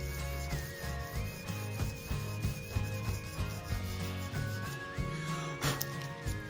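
Abrasive rubbing inside the jimping grooves of a knife's thumb area, polished down to 1,000 grit, giving steady close-up scraping strokes in a repeated rhythm, with no talking.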